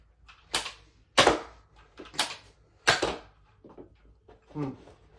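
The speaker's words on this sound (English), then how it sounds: "Now for some X-Shot Insanity waffle head style darts." A Nerf Elite 2.0 Trio blaster fires X-Shot Insanity waffle-head darts, with four sharp, close snapping shots spaced about a second apart, followed by quieter clicks and handling rattles from priming the blaster.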